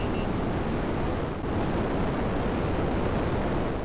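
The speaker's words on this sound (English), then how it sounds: "So it takes off the rocket boost." Starling aircraft taking off on rocket boost in GTA 5, a dense continuous roaring rush of thrust that stays loud and steady throughout with a brief dip partway.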